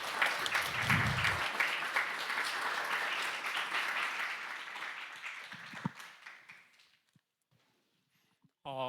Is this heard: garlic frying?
no